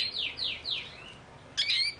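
Light canary song, a quick run of three bright descending chirps followed by a brief pause and another high trill, clear and fairly close with no voices over it.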